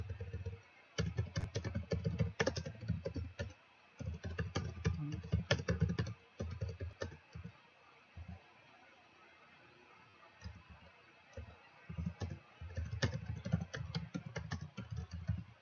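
Computer keyboard typing during an online class session: bursts of rapid, close key clicks with short pauses between them, continuing steadily throughout.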